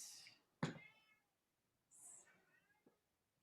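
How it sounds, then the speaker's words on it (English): A domestic cat meows a few times at moderate distance in a quiet room during a night yoga session, with short gaps between calls. "I have one meowing over there"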